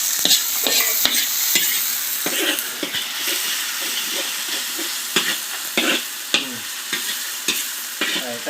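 Ginger and garlic sizzle loudly in a hot pan while being stirred, a continuous close crackle punctuated by sharp scraping strokes and utensil clicks, with no talking.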